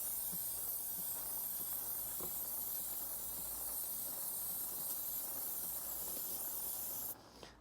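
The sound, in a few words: degreaser sprayed onto a motorcycle chain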